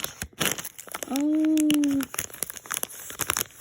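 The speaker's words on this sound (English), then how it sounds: "Ooh, I ripped the paper." Paper packaging on a Mini Brands toy capsule rips and crumples in close, crinkly bursts that run through the whole moment, with a brief spoken exclamation.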